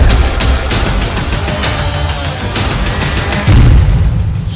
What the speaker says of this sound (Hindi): सामने ही धमाका, धुआं ही धुआं।